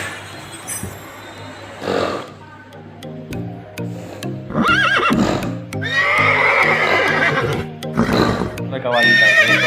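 A boy imitates a horse's neigh in several wavering, whinny-like cries of rising intensity over a steady tonal hum, with voices around him.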